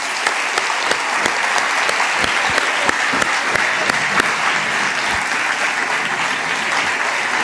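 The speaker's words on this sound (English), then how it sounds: "please give one more round of applause" A conference audience at an awards presentation gives a loud, sustained round of applause, dense clapping with occasional sharp individual claps punching through, no talking.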